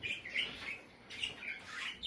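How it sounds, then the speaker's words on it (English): Birds in a pet shop give a run of high chirps and squawks in short bursts, fairly close and moderately loud, with no one talking over them. "See, dude, birds are gross."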